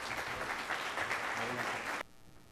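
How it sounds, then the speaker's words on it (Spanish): Conference audience applauding a lecturer as he is introduced, a dense wash of clapping that cuts off abruptly near the end, leaving a quiet room with faint low murmur. "Queda con ustedes nuestro magnífico ponente, Pablo Boullosa, quien pide un aplauso, por favor."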